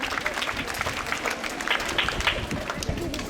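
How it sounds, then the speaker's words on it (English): Classroom applause breaks out for the blue team at an abacus activity day, a busy, even wash of many hands clapping together for the whole stretch, fairly loud and continuous. "Let's clap for blue, everyone."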